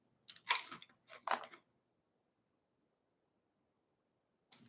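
Stale, ridged super hot chili chips are chewed close to the mic in two short crunchy bursts, then silence before another bite starts at the end.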